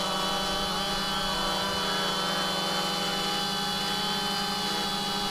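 A drone flying close by, its rotors giving a steady, loud, high-pitched whine with dense tonal buzzing that holds unbroken throughout, alone with no talk.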